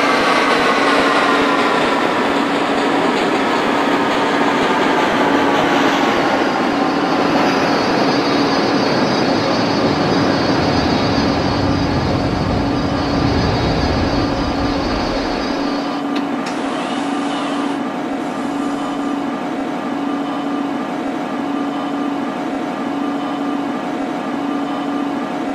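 A Manhattan-bound E local train on the NYC subway, simulated in OpenBVE, runs with a loud, continuous rumble and a steady motor whine that lasts throughout, with no voices.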